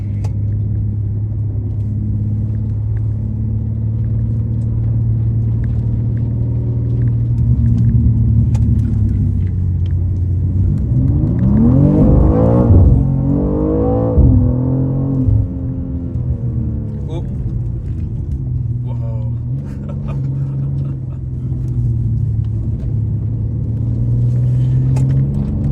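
BMW M2 Competition on the road, engine droning steadily before revving up and down in rising and falling sweeps mid-way, then settling back to a rumbling cruise, with speech heard at points.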